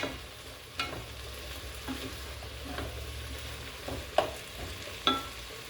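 Garlic powder and curry spices frying and stirred in a pot for a lentil coconut curry stew: a soft, steady sizzle with a few sharp scrapes and clinks of the spoon against the pot, close and fairly quiet, with no talking.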